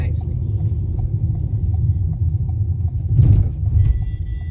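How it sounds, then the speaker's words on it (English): A Ford EcoSport Titanium with a 1.5 Ti-VCT engine and 5-speed gearbox is driven, giving a steady low engine and road rumble inside the cabin, with a brief rattle near the end. "I must say this engine is very much responsive, and this 5-speed gearbox does its duty very nicely"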